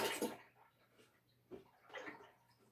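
Milk being poured into a cooking pot for home cheese and yogurt making, a faint liquid splash at the start followed by quieter trickling and pouring sounds, heard alone.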